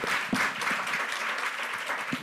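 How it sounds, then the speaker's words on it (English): Thick, sustained applause from a women's conference audience sending the judges off, many hands clapping evenly at full strength in a large room, with a few lower thumps showing through. "Let's give them a round of applause"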